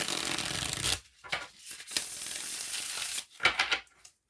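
Tarot cards are riffled and shuffled in quick bursts, a crisp rustling flutter up close, separated by brief pauses.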